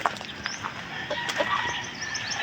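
Backyard chickens, soaked by overnight rain, cluck in the morning with short scattered calls and a faint flutter of wings, close by and fairly loud, with no talk.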